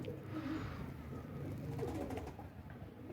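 Pigeon cooing softly in a loft, low muffled coos repeating over steady background noise, with no talking.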